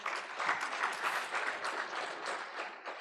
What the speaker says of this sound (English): I request that we clap for the Minister